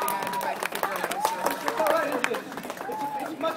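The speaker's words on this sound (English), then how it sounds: "We're clapping for the guy on the bike" Onlookers clap for a street performer doing a bike stunt at Southbank in Brisbane, with scattered claps mixed under people talking and cheering nearby.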